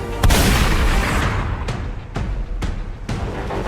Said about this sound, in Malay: Kemudiannya melepaskan tembakan.